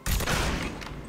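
Small guns firing in the Mafia 3 video game, a loud close burst of rapid shots packed into about a second.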